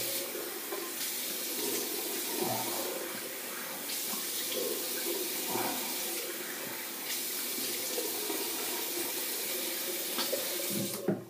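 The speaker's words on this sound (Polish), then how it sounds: "Ja teraz z resztki mydła z twarzy zmyję zimną wodą." Cold tap water runs steadily into a sink while soap is rinsed off a face after a shave, a continuous close splash broken by occasional louder spatters as hands move through the stream, ending with a brief clunk.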